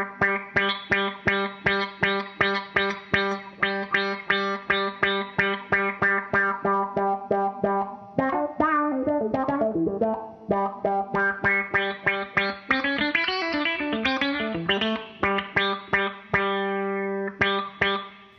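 Chords from an electric guitar run through a Wampler Terraform multi-modulation pedal with its depth being turned, played as steady rhythmic strums. A swirling, wavering section builds midway, then the chords return, loud and alone with no talking.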